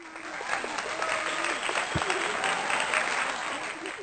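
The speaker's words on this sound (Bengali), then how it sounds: "হাততালি হোক।" A crowd at an outdoor football game show claps steadily for several seconds, a dense and even burst of applause with a faint voice underneath.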